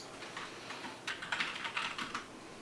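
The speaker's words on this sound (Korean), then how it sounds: "컴퓨터 키보드 소리만이 가득한 공간." Rapid clicking of keys on a computer keyboard, close and steady, growing busier partway through in a quiet university campus room where students code.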